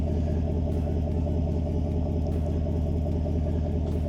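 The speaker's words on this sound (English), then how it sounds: "So here's a little sound of what it sounds like at idle" A Ford F-150 pickup fitted with a Flowmaster Outlaw muffler idles steadily, its exhaust giving a continuous deep, throaty rumble that stays loud and even throughout, with no talking.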